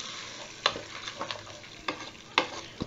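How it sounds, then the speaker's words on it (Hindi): Rice and pasta being fried and stirred in a pan give a steady low sizzle broken by sharp scraping clacks of a spoon against the pan at irregular moments, all close by with no talking. "और चावल को भी अच्छे से भून लेंगे। हमें इन सारी चीजों को अच्छे से भुनना है"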